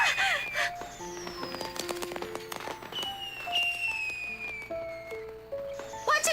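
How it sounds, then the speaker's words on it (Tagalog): Fireworks going off at night, a scatter of sharp crackling pops and whistling bursts, some near and some farther off, with no voices. "Fireworks sa ganitong oras?"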